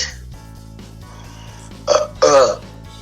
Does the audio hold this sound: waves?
no